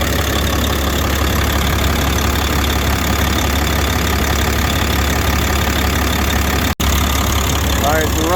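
A diesel vehicle engine idles steadily and loudly up close, a continuous low rumble with a faint knock that runs unbroken apart from one tiny dropout near the end.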